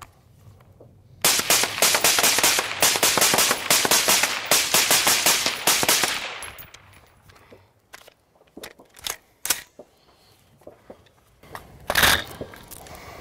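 Rapid semi-automatic rifle fire from a 20-round PMAG rings out in a dense, loud string of sharp shots for several seconds, then trails off into a few scattered single reports and clinks.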